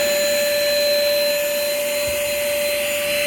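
A 2010 Sanitare Multi-Pro commercial upright vacuum cleaner runs at full suction nearby, a loud, steady motor roar with a piercing constant whine and no voices.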